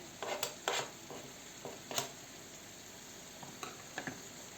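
Sour cream frying in a pan with asparagus beans and vegetables, a soft steady sizzle under repeated spoon scrapes and clinks against the pan, fairly close and quiet, with no talk.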